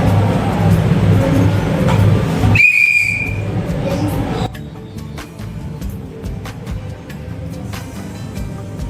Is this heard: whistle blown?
yes